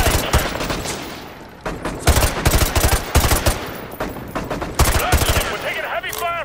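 Rapid machine gun fire in Call of Duty Modern Warfare 2 Remastered: loud, close bursts crackling in dense, uneven volleys throughout a chaotic firefight, with shouted voices mixed in.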